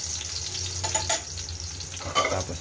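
Garlic fries in hot cooking oil with a steady, close sizzle, broken by brief stirring scrapes and a couple of utensil clinks.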